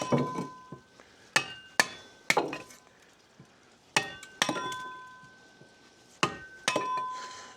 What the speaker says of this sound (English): I just use a little claw hammer for this